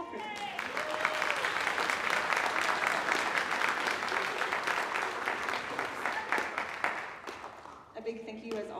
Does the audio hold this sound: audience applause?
yes